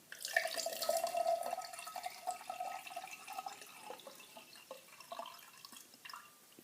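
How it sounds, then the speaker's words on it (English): Salt water poured into a container for an egg experiment, a faint trickling and dripping stream that runs steadily at first, then thins into scattered drips, with no voices. "We're going to start by adding our salt water"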